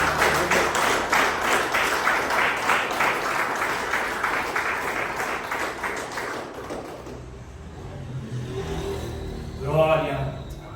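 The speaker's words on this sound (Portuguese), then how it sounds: "Pode aplaudir o Senhor" A congregation claps together at a church service, sustained dense applause that fades out after about seven seconds, followed by a voice and a rising murmur of people in the room.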